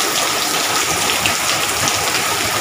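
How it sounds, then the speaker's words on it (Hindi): Steady rain pours down in Delhi, a dense, even hiss of drops on surfaces, close and continuous throughout with no talking. "बारिश हो रहा"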